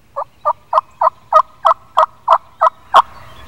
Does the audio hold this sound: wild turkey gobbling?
yes